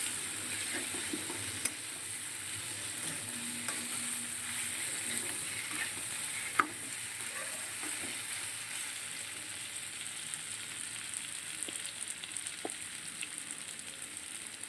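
Cauliflower cooks in a pan over a low gas flame, giving a steady, soft sizzle and faint frying crackle throughout with a few light clinks and stirs, no voices.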